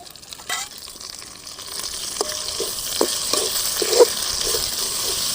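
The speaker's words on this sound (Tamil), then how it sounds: "கிள்ளி வச்ச புதினா கீரை 1 கப்பு போட்டு வதக்கலாம்." Torn mint leaves sautéing in oil with browned onions in a pan, a continuous sizzle broken by several spoon scrapes and taps against the pan, with no voices.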